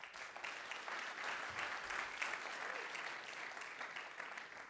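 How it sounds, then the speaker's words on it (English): Steady, dense applause from an audience at a hackathon talk, sustained evenly at moderate distance for the whole stretch with no pauses. "One more round of applause for Trent."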